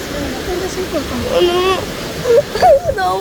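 Large waves crash in a continuous, loud roar of surf and splashing, with excited voices talking over it.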